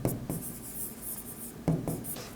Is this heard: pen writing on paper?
yes